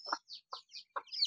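A hen clucking in short, repeated bursts close by, several clucks with higher chirpy notes between them, no talk.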